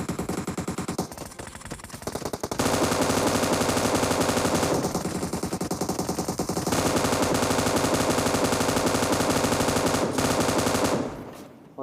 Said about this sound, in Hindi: अब तुम्हें देखने को मिलेगी 100 गोलियों वाली गन की शक्ति।